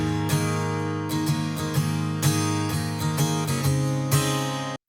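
Dry, unprocessed acoustic guitar strumming chords, close and clear, with regular strums ringing out before a sudden stop at the end.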